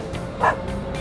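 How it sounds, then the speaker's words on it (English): A single short dog bark or yip sounds at moderate loudness over a steady background hum, as a toy dog is revealed at an indoor playground. "It's a dog."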